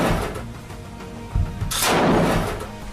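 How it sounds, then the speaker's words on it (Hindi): Sustained gunfire in war footage of fighters firing machine guns at Israeli troops, a dense loud rattle with a sharp burst near the middle followed by a heavier roaring volley, with no talk. "इन लड़ाकों के हाथों में मशीन गन होती हैं, जिससे दनादन फायरिंग हो रही है।"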